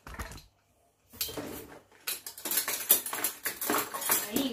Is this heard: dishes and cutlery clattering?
yes